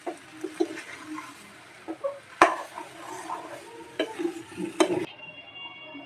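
Potato bhaji filling for masala dosa being stirred in a pan, a steady scraping and mixing with sharp spoon knocks against the metal and a soft sizzle underneath, close and fairly loud, ending abruptly.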